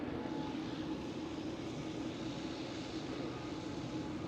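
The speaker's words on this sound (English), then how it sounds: "There goes the Iceland Air 757." An Icelandair Boeing 757 departs from Schiphol, heard as a continuous broadband jet engine roar at moderate distance, steady and unbroken, with no talking.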